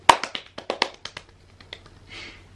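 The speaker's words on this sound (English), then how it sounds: "He can do a really quick clap" A quick run of sharp hand claps or taps, loud at first and fading into lighter taps, with a soft rustle at the end; close by and with no talking.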